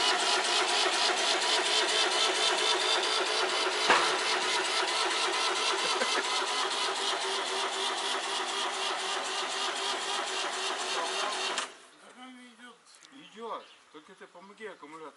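A vehicle engine with a suspected fuel pump fault cranks loudly and steadily for about twelve seconds without catching, then cuts off abruptly, leaving quieter scattered sounds.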